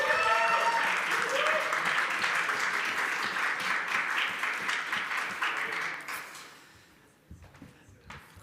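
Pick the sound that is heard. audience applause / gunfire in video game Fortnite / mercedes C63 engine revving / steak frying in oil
audience applause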